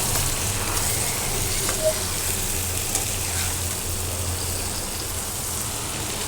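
Water hits a pan of browned fish curry cooked with pumpkin bori, giving a steady, even sizzling hiss that carries on throughout, with only faint background sounds.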